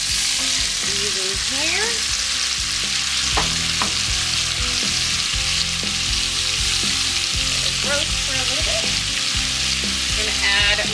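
Vegetables sauté in a Dutch oven for chicken soup, giving a loud, dense, continuous sizzle with frequent spoon scrapes and knocks against the pot, while a voice talks briefly over it.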